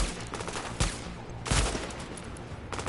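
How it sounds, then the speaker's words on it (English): Gunfire in The Division, a third-person shooter, with sharp loud shots at about 0.8 and 1.5 seconds and another near the end, over a steady battle din. "Oh, that sniper got me."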